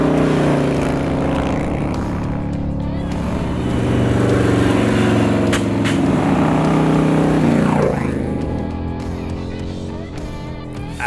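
A 2018 Harley-Davidson Road Glide bagger riding on the road, a loud, steady, deep engine drone with wind rush and slight rises in revs, close and continuous, with faint voices at moments.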